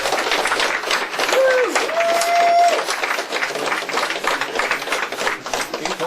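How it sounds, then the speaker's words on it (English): An audience claps for the winners of an online gaming clan tournament, a steady patter of applause running throughout with a brief tonal sound partway in. "Applause, please."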